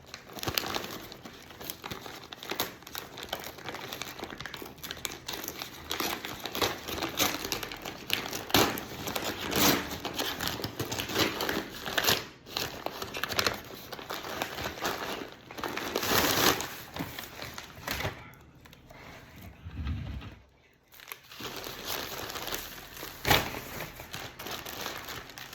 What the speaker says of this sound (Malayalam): അപ്പോൾ അത് അൺബോക്സ് ചെയ്യാൻ വിചാരിച്ചു.